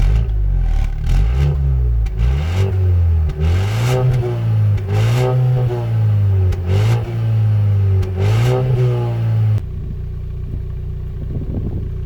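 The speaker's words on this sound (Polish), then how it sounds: "Zwyczajny dźwięk czterocylindrówki, nic nadzwyczajnego, ale już za to wydech ładnie, naturalnie buczy" A Dacia Duster 1.3 TCe four-cylinder engine drones steadily up close, its exhaust humming as pitch rises and falls through several revs, then cuts to a quieter idle near the end.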